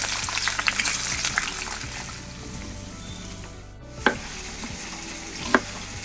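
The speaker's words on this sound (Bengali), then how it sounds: "এদিকে পনিরগুলো ভাজতে বসিয়ে দিচ্ছি" Paneer pieces frying in oil in a pan, a continuous close sizzle and crackle with a couple of sharp utensil knocks against the pan.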